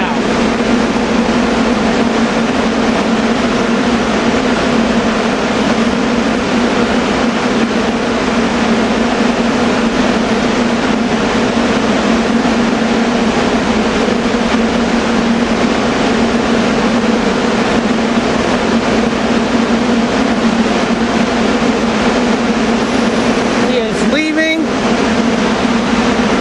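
A Bombardier cab car commuter train sits at Paoli station during rush hour, giving off a loud, steady idling hum with a constant low drone and a brief higher squeal near the end.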